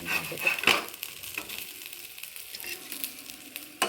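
Fish pieces with curry leaves frying in hot oil, a steady close sizzle with a few louder crackles and spatters near the start, no voices.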